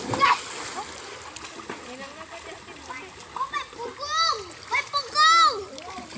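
Young children play in shallow water in Ozamiz, sending up repeated bursts of splashing and sloshing close by while their high voices chatter and call out throughout.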